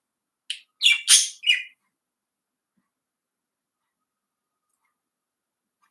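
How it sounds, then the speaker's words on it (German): A small bird indoors gives a quick series of four sharp, high chirps close by, then falls silent, with one more faint chirp at the very end. "Versteht mich überhaupt irgendjemand mit diesem Vogel?"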